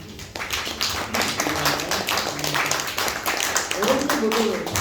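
Applause from an audience at a Korean poet's book concert, a steady close patter of clapping that runs the whole moment, with a host's voice talking over it.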